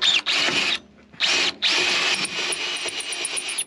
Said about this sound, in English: I'm going to use that hole with the drill bit to track and drill the hole through the other side